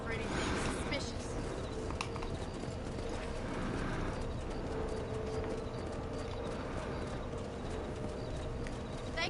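Horse hooves clip-clop steadily on the ground in the Red Dead Redemption video game, a continuous rhythmic trot under game ambience and voices.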